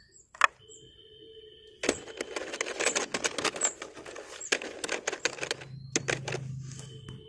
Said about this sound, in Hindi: अभी देखिए हमारा बंगाली में इसको टाइप करना